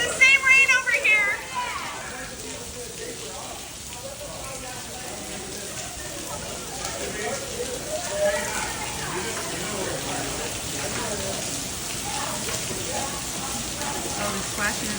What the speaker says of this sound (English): It's the same rain over here.